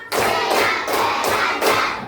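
A fifth-grade class claps together in a rhythmic pattern, loud, close bursts of many hands landing in unison with brief pauses between groups of claps.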